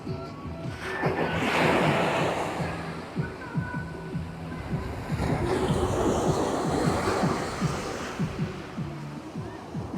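Ocean waves washing onto a beach, two broad surges of surf swelling and fading over wind noise, moderately near with no talk.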